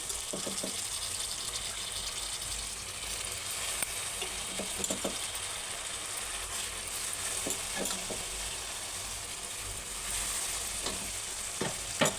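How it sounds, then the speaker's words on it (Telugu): Onions frying in oil in a pan for mango moong dal, a soft continuous sizzle with intermittent spoon scrapes and clinks, close and fairly quiet, no voices. "నేను ఆయిల్ ఇందులో ఆనియన్స్లో వేసుకుంటున్నా"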